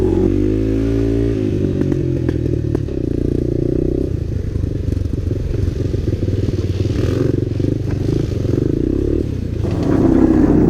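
Three-wheeler ATV engines rev hard and close, a loud buzzing roar that rises and falls as the machines are run, with clattering and scraping mixed in and no one talking.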